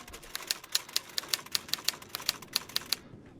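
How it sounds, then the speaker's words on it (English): Typewriter clicks sounding for each letter as text appears in the video game The Warden, a steady run of about a dozen sharp, evenly spaced ticks over faint background hiss, stopping abruptly. "that's really annoying hearing that typewriter click for every single letter"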